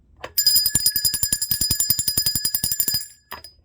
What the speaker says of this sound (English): I'm going to ring the bell for that